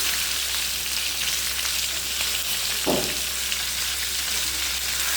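Chicken pieces sizzle steadily in hot oil, a dense continuous crackle with one brief stir or clink midway.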